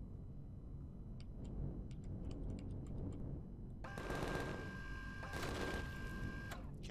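Spaceship guns firing in Empyrion Galactic Survival to shoot out a core: scattered faint ticking shots, then a dense rattling barrage with a steady mechanical hum over a low engine rumble, fairly faint overall.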